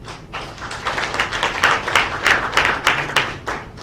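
An audience at a national ceremony celebrating Sierra Leone's EITI score applauds, with dense steady clapping from many hands in a sustained burst, moderately loud and with no speech over it.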